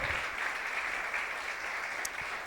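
A church congregation applauds the Lord during a Sunday sermon, a steady dense wash of clapping from many hands that fills the space without a break.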